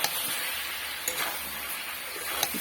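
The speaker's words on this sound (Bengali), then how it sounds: "এটিকে আবারও ভালোভাবে কষে নিচ্ছি।" Fish head chhechra curry is stirred and fried in a pan, giving a steady sizzle broken by a few sharp scrapes and clicks from the spatula.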